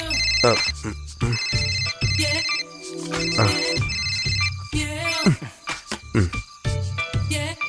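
A mobile phone ringtone plays repeatedly as an incoming call keeps coming back, its bright melodic pattern recurring in loud bursts across the clip, with a few brief voice-like sounds mixed in.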